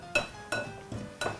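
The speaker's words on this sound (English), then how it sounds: "she's taking a blender and she's getting the butter mixed in the flour" Pastry blender cutting butter into flour in a bowl, four soft, evenly spaced scraping clinks of metal against the bowl, faint and close.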